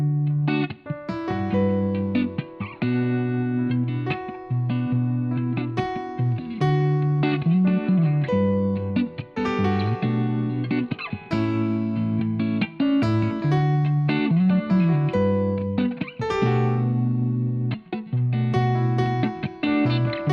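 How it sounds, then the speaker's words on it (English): Strummed guitar chords with keyboard melody notes picked out on top, a distorted, effects-laden, reverberant mix of rhythmic chord changes over about twenty seconds, steady and moderately loud with no talking. "I'll have the guitar, I'll play the chords, and then on the keyboard I'll hit some key melodic notes"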